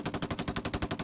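Rapid automatic machine-gun fire in a single sustained burst of about a dozen evenly spaced shots, loud and close, from fighting between government forces and Taliban fighters in Afghanistan.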